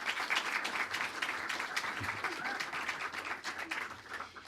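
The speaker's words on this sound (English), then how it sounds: "Please have a round of applause." An audience at the ACE EditFest London 2018 panel applauds the moderator as he takes his seat, giving steady, dense clapping that holds throughout at a moderate level in an indoor hall.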